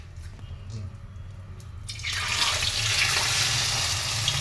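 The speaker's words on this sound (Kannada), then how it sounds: "ಎಣ್ಣೆ ಕಾದಿದೆ, ಈಗ ಡೀಪ್ ಫ್ರೈ ಮಾಡೋಣ" Cabbage Manchurian balls hit hot Freedom sunflower oil for deep frying, a quiet kitchen suddenly bursting into a loud, steady broadband hiss of sizzling that holds for the rest of the moment, with no talking.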